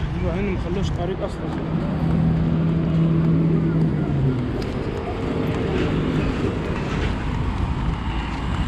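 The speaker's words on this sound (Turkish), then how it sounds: "Şu tekne muhtemelen ya Luxor'dan ya Kahire'den geliyor." A motorboat engine drones steadily amid gusty wind, with faint voices in the background, as a passenger boat approaches the shore near Elephantine Island, Aswan.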